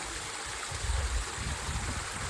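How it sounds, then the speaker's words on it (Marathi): Water from a small monsoon waterfall runs down the stone steps of Sinhgad Fort near Pune, a steady rushing stream with a deeper low surge midway, close and continuous with no voices. "हा लहानसा धबधबा"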